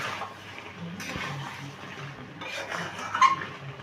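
A spoon scrapes and clinks against a pan while spiced goat liver is stirred and fried with shahi garam masala, soft rhythmic scraping with faint sizzle, close and fairly quiet.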